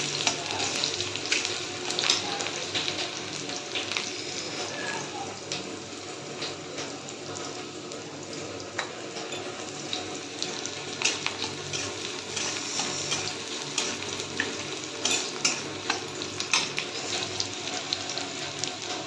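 Onions browning in a pan for Maggi noodles give a continuous close sizzle with scattered scraping stirs, steady and moderately loud throughout with no talking.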